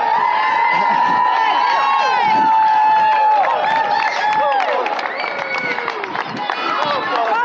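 Crowd cheering and shouting for runners during a race, loud and continuous with whoops and voices layered over the footsteps of passing runners.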